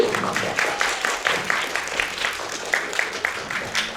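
A crowd applauds a cosplayer at BiforCon 2024, a cosplay convention, with steady overlapping claps at close range and a few sharper bursts standing out over four seconds.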